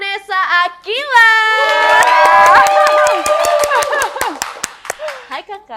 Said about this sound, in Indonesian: Everybody tepuk tangan dulu, please welcome Kak Nessa Akila.